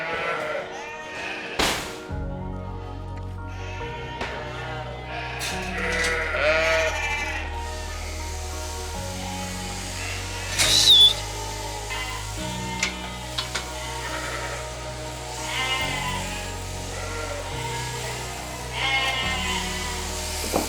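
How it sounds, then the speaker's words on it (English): Sheep crowd beneath a shearing shed on a UK farm in June, with repeated bleats overlapping from many animals. Under them runs a constant low mechanical drone and busy, clattering background noise, loud and unrelenting. "The noise under the shed where those boys are shearing is relentless."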